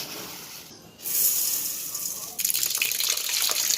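Tap water gushes steadily into a pot while two cups of rice are washed for cooking, a loud, continuous hiss that swells in intensity twice with no talking.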